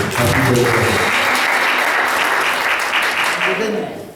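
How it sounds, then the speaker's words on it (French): Congregation applauding during a church morning service, lively sustained clapping with voices mixed in that swells early, holds steady and fades toward the end. "Applaudis l'Église."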